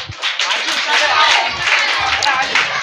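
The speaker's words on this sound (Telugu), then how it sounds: "చప్పట్లు." Lively clapping from a church prayer-house crowd at a VBS prize giving, honoring the third-place team, with voices mixed in over the claps.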